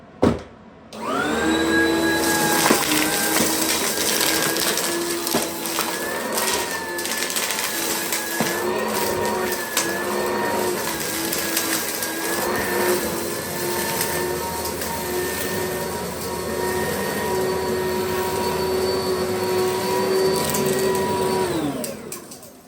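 Oreck XL5 Xtended Life Hypoallergenic upright vacuum cleaner running on carpet: a loud, steady motor whine with a high tonal hum starts abruptly, holds for about twenty seconds with slight pitch wobbles, then winds down at the end.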